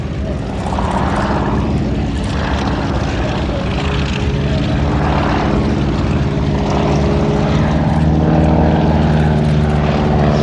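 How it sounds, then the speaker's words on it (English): A propeller-driven aircraft performs a display pass at the Sywell Airshow, a loud continuous engine drone with a throbbing propeller pulse that holds steady and grows slightly near the end. "Got a rudder to line the aircraft up on the display line."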